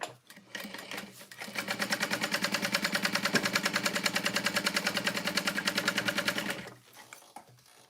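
Sewing machine running steadily for about five seconds, stitching custom orders, a loud, fast, even mechanical rhythm that starts and stops cleanly with quieter handling noise before and after.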